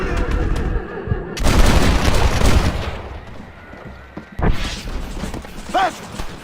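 Gunfire in the Western video game Red Dead Redemption, with bursts of shots and booming impacts in two loud clusters, mixed with mechanical clatter and brief game dialogue.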